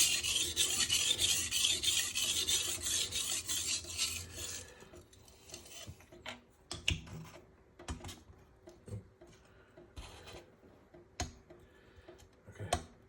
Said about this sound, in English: Hear the grinding.